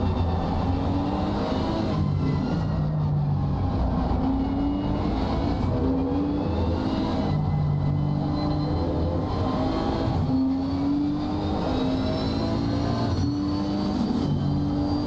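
BMW and Nissan race cars lapping the Paul Ricard circuit in a racing game, engines droning steadily and loudly with rising and falling pitch through gear changes, a continuous close roar with no talk.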